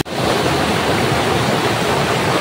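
Water from Malmag falls rushes in a steady, loud, broadband roar, continuous and close, with no voices over it.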